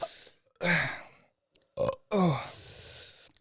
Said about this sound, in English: I got the heat hiccups.